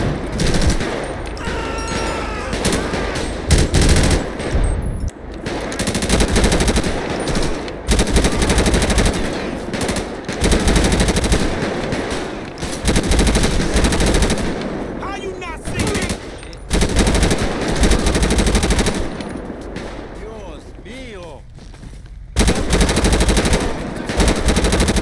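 Sustained machine gun fire from the GTA 5 video game, loud and dense, running in long bursts with brief breaks for most of the stretch, with someone talking faintly underneath at times.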